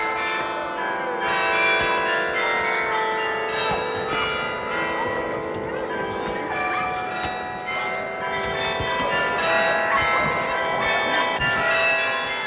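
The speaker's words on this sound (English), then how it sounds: "the bells rang out" Bells ring out at midnight to mark a celebration, a continuous, dense pealing with rich overlapping tones that stays loud for the whole stretch.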